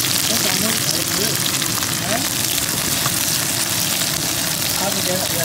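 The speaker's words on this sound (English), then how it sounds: "into the oil of the pot, add the green beans" Green beans fry in hot oil in a pot for dry-fried green beans, a loud dense crackling hiss that holds steady and close throughout.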